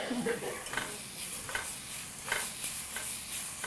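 Garlic and onions sizzling in a pan, a low, even frying hiss with light rhythmic stirring scrapes every second or so, fairly quiet and close.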